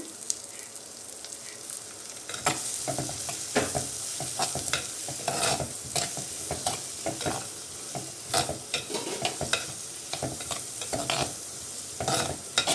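Onions frying and being stirred in hot oil with salt and a little turmeric, cooking for a drumstick and raw mango tamarind stew; steady close sizzle with repeated scraping stir strokes and clinks throughout, no talking.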